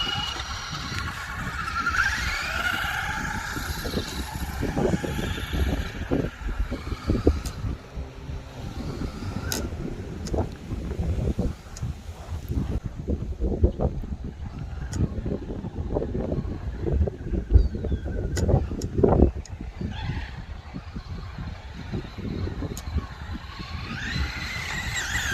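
A Traxxas Slash RC car fitted with an LCG conversion kit runs a test drive outdoors, its small electric motor whining in bursts over steady wind noise on the microphone, with rough, fluctuating rumble as it accelerates and brakes.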